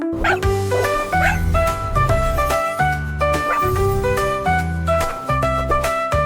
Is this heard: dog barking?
yes